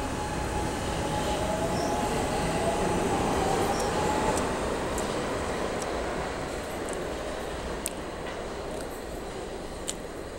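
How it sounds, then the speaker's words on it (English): A SEPTA trolley departing a station rumbles steadily, with a faint squeal of wheels and occasional sharp clicks, no voices, the noise easing slightly as it moves off. "Doors are closing. That train is going to Frankfurt"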